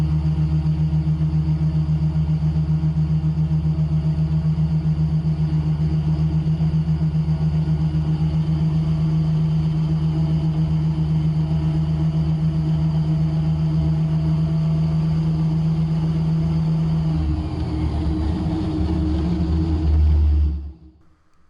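Raptor prototype aircraft taxiing down a runway, a steady loud engine drone and rumble holding for about twenty seconds before tapering off at the end.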